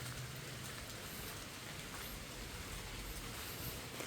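Rain falls steadily in a soft, even hiss of drops hitting a surface, continuous and fairly quiet.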